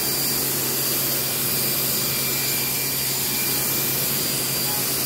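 Steady broadband hiss and motor drone of a Sun Joe 2300 PSI electric pressure washer spraying grime off a surface, loud and continuous throughout with no talking.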